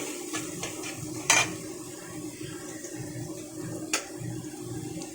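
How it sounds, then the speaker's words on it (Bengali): Turmeric and salt are stirred into a cooking pot, with soft scraping and a gentle sizzle underneath and two sharp clinks of the spoon against the metal pot. "মশলাটা একটু ভালো করে নেড়ে নেব।"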